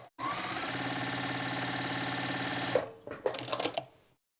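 A sewing machine runs steadily, stitching quilt strip sets in one long continuous burst of rapid needle chatter, then stops, followed by a few brief clicks and handling noises; nearby, no talking.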